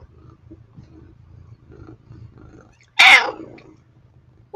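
A pet cat named Layla lets out one loud, sharp meow after a quiet stretch of faint low room murmur, with the start of another cry cut off at the very end.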